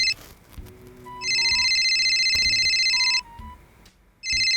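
A mobile phone ringtone rings loudly in electronic tonal bursts that repeat after short gaps, with faint background sounds between the rings.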